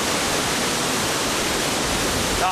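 A steady, full roar of water pours down at Angel Falls, loud and constant across the short stretch with no speech over it.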